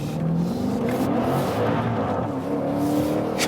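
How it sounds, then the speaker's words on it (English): Maserati Levante Trofeo V8 SUV pulling away hard from a standstill out of a corner, all-wheel drive in sport mode, with a steady loud engine drone rising in pitch throughout. "And here I'll accelerate out of the corner from standstill"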